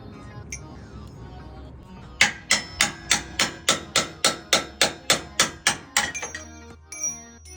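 Metal rings under a hammer as a shackle hanger is knocked off the frame rivets of a Toyota Tacoma, with about fifteen loud, evenly spaced ringing blows close by, then a few lighter taps.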